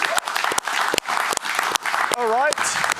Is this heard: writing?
no